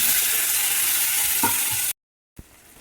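Tomato going into a pan of frying onion, chili paste and turmeric for a fish-head and drumstick-flower dish, a close, steady hiss and sizzle that stops abruptly, then one brief knock.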